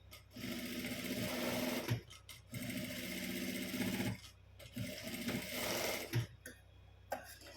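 A sewing machine stitches a puff sleeve in bursts of fast, even rattling, with short pauses between runs and a few soft clicks. It sounds close and moderately loud.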